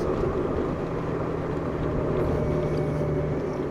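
A Honda Goldwing DCT motorcycle rolls over gravel, giving a dense continuous rumble of engine and road noise with no breaks or distinct events.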